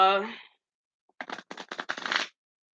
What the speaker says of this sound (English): I'm going to shuffle these two more times